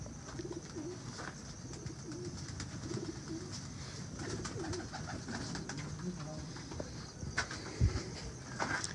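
Salaray Taddy pigeons in a loft coo in low, throaty, repeated murmurs among faint rustles and shuffling, with soft background voices present.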